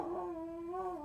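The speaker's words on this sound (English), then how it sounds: "Sammy's barking" Sammy, a household dog, gives a single drawn-out whining, howl-like cry that holds a steady pitch for about a second, close and fairly clear.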